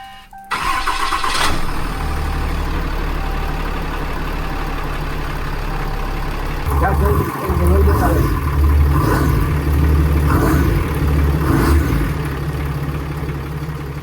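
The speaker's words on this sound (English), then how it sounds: "Once the truck started" A truck engine cranks and fires after a starter solenoid repair, then settles into a steady rumbling idle with a brief revving stretch, heard close by with people talking faintly over it.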